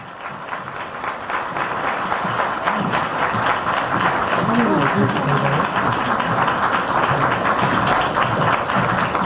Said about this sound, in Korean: 청중 여러분 큰 박수로 시장님 맞이해 주십시오.